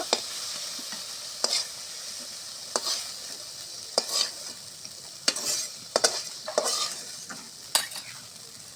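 Food stir-fried in a pan sizzles steadily, and sharp scraping stirs from a spatula recur roughly every second, loud and close, with no talking.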